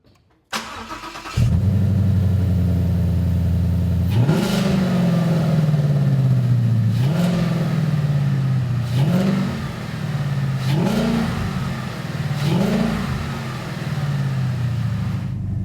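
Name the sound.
2015-2017 Mustang GT engine revving with Roush cold air intake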